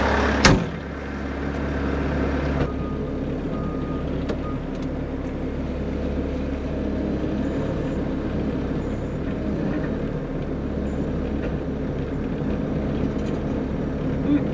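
A skid loader fitted with a quick attach plate drives over bumpy ground, giving a loud, steady engine drone that runs throughout, with a sharp knock near the start.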